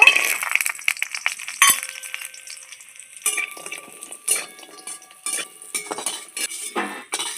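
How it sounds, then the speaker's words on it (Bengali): Bori (lentil dumplings) fry in a pan: light sizzling sits under sharp clinks and scrapes of a utensil turning them, with moments of near silence between bursts. "বড়িগুলো ভেজে নেব"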